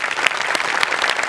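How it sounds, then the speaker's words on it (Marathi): Loud audience applause at a Marathi comedy show, dense steady clapping from a close crowd with sharp individual claps standing out. "जोरदार टाळ्या."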